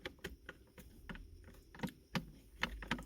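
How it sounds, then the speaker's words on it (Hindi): Several sharp plastic clicks at uneven intervals, close by, with faint handling noise between them, as a plastic trim piece on a Toyota Aqua/Prius C is pressed down and clicks into place. "टक टक की आवाज़ आएगी आपको"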